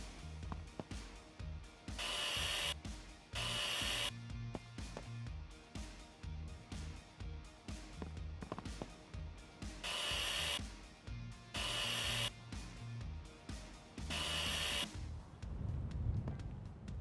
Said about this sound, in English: we are going to chop the roof off